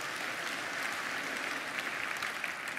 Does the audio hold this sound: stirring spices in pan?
no